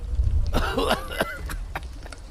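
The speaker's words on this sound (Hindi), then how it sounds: "अचानक से उनमें से एक आदमी को जोर से खांसी आने लगती है।" A man coughs loudly several times in rough, hacking bursts, close by, with some background noise around him.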